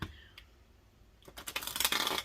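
A tarot deck is shuffled by hand, a faint tap early on, then a dense, rising burst of riffling card clatter near the end, with no one talking.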